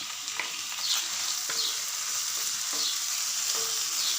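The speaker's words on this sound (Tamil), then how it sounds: "கேப்சிகம் நல்லா வதங்கட்டும்." Capsicum and tomato sauté in a pan for a veg curry roll filling, a steady close sizzle with frequent stirring scrapes and clicks throughout, no voices.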